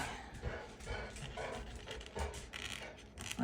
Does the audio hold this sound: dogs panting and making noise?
yes